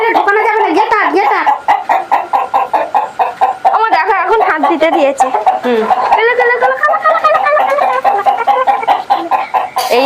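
Farmyard hens and a rooster cluck close by in quick, repeated bursts throughout, while a person talks over them.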